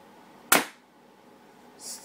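A single sharp crack from a Crosman Recruit air rifle, close and fairly loud with a quick decay, followed by a brief faint hiss in otherwise quiet surroundings.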